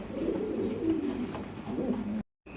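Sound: pigeons cooing at a fancy pigeon farm

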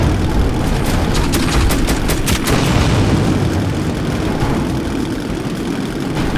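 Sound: tank engine and gunfire in the video game Metro 2033

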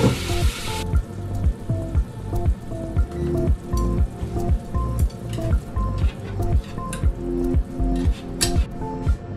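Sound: sauce (sake, mirin, soy sauce) sizzling in the pan

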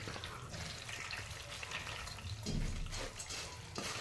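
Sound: water poured to soak puffed rice

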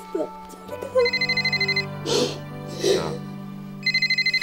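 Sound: telephone ringing

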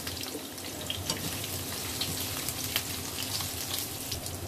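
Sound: sautéing chicken filling for lemper ayam

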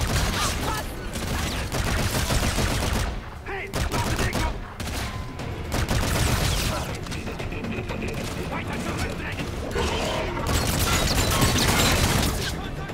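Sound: gunfire in the video game Call of Duty: Infinite Warfare

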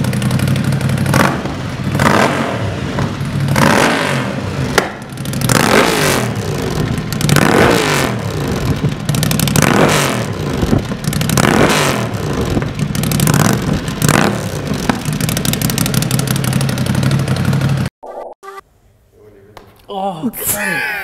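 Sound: Ducati 803 motorcycle engine revving

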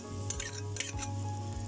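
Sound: ginger garlic paste added and stirred in sizzling pan

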